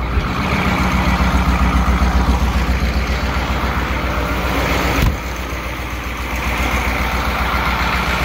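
An old farm tractor engine idles loudly and steadily with a deep, even rumble, close by, and a brief dip in level partway through before the drone resumes.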